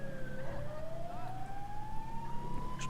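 A police siren on a BMW K1600 motorcycle wails with a steadily rising tone over road and engine noise in GTA V, continuous and fairly loud throughout.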